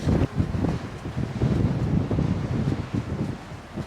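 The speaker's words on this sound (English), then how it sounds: "It's super windy up here." Loud, continuous wind buffeting the microphone of a Sony ZV-1 camera high up on a coast path, a rumbling, gusty roar that swells and dips without pause.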